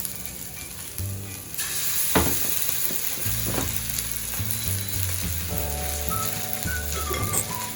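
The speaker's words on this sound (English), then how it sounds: "Then now we can add in our next ingredient, the oyster sauce." Chicken frying in a pan after oyster sauce is added crackles with a dense, loud sizzle, joined by low clunks and scraping from the pan, with no talking.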